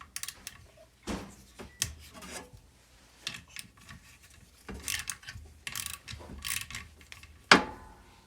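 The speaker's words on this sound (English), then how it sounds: "So I'm going to take the ratchet and just unscrew this nuts." A ratchet unscrewing nuts on a washing machine during a broken coupler replacement, with bursts of clicking and scraping metal interrupted by short pauses and a sharper clank near the end, close-up and without talk.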